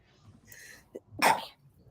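A single sharp sneeze bursts out after a faint catch of breath, close and loud against a quiet room.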